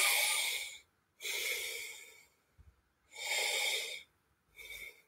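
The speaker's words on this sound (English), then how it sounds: "You want them to breathe in." During acupuncture, a patient takes several deep, breathy inhalations and exhalations, each about a second long, with short quiet gaps between them, heard close up.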